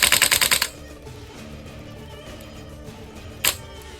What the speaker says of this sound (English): Let's just see how well it rips on full auto